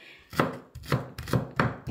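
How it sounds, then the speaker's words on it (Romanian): A knife chops vegetables into small cubes on a cutting board for a green lettuce soup, with four distinct crisp chopping strikes at a steady rhythm, close and clear, and no speech. "Le tăiem așa cuburi foarte mici."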